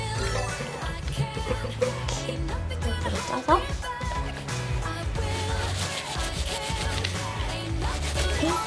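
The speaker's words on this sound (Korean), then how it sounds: "그래서 지금 제가 거품 나는 걸 한번 보여드릴까요?" New shampoo worked into foam by hand gives a soft, continuous wet rubbing and squishing, close up, over steady background music.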